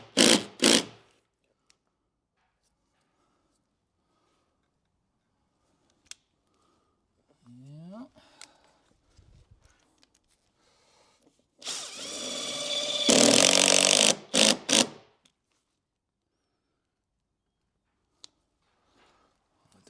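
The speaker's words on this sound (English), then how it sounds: "I'm still gonna add a screw here because I can see it's a little bit off from that plywood" A power drill drives a screw into a plywood edge while a strip plank is installed: a short, loud burst of motor whine and grinding, close by, with brief clicks before it and quiet gaps around it.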